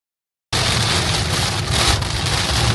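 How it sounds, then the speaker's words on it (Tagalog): Heavy rain mixed with small hail during a storm in Calgary, a loud dense continuous hiss and patter that starts abruptly and holds steady. "Sobrang lakas ng ulan guys and actually hail siya."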